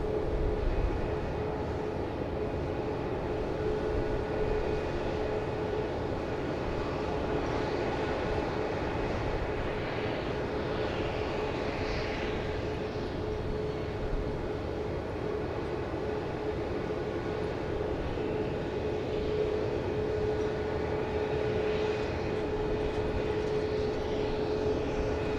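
Airplane taxiing at Dallas Love Field airport at night, a steady dense engine roar with a faint whine held at a constant loud level throughout, heard alone from a nearby viewing stand.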